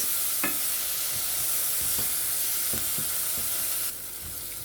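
Montego Bay hot curry powder being stirred in a pan, a low sizzle under a few soft scraping strokes of the spoon, fairly quiet and without speech.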